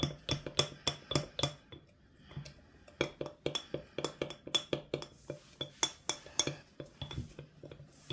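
A spoon stirring water into sourdough starter inside a glass jar, giving a fast run of sharp, close clinks and scrapes against the glass with brief pauses between bursts.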